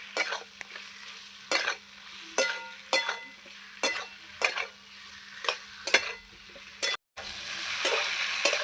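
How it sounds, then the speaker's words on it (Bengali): Spices, potato and taro stir-fried in a pan, a steady rhythm of scraping spatula strokes roughly every half second over continuous sizzling, close and clear, with a brief pause near the end. "এবার আমি সব মশলা আলু কচু ভালো করে কষিয়ে নেব"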